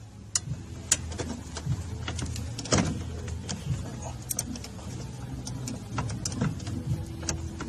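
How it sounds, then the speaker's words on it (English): A 3/8 ratchet with an extension working 12mm bolts on a Nissan Frontier steering column under the dashboard, giving sharp irregular clicks and metallic taps, close and moderately loud, with no talking. "Now we're going to use a 3/8 ratchet with an extension and a 12mm"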